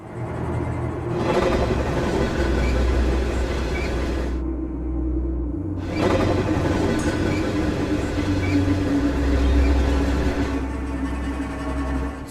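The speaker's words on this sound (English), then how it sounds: "Scary intercity train." An intercity train rolls past with a steady, loud rumble and clatter that drops out briefly in the middle before the noise returns, with no voices.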